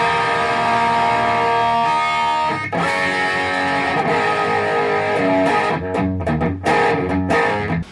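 A Gibson Les Paul electric guitar with a dark, thick tone rings out in loud sustained chords, then shifts into choppier, muted strikes near the end, with no talking.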